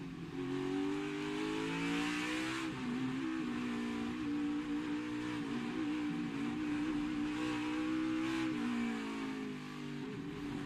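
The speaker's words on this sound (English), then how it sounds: "Listen to the throttle there through turns 8, 9, and 10." A NASCAR race car engine at the 2021 Verizon 200 road course qualifying, heard onboard as it rises and falls in steady throttle sweeps through the corners, a continuous loud droning roar.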